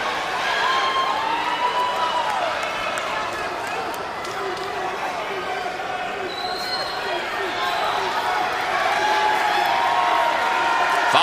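Boxing crowd in a Nashville arena cheers and applauds between rounds of a big fight, a sustained distant roar with scattered whoops, heard under a commentator's voice.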